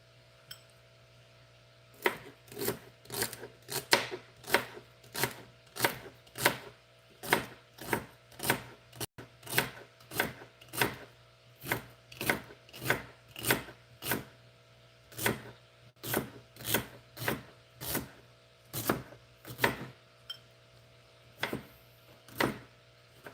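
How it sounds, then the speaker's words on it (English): A knife chops celery on a cutting board in a steady rhythm of sharp, evenly spaced thuds, close and fairly quiet, with brief pauses between runs of cuts. "Let's chop that up."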